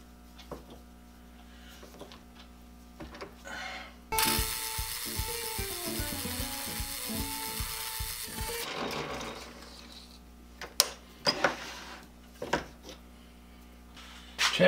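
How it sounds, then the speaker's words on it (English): A countersink or deburring tool runs in a hole in a small metal motor arbor adaptor, giving a loud mechanical whirring chatter for about four seconds between quieter shop clatter and handling taps. "I'm going to deburr that hole real quick."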